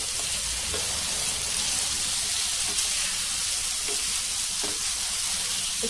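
Paneer cubes and capsicum sizzle steadily in a hot pan while being sautéed for paneer tikka masala, a continuous bright frying hiss with occasional soft stirring knocks, close and even throughout with no talking.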